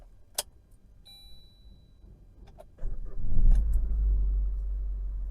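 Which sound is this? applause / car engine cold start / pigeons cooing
car engine cold start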